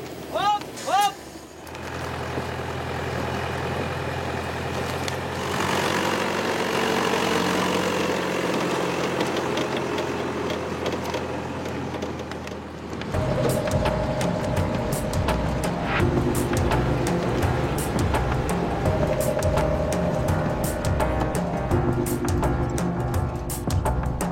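A tractor engine drones steadily while hauling freshly cut logs on steep Carpathian slopes, loud and close, shifting to a rougher, busier rumble partway through; a voice talks over part of it.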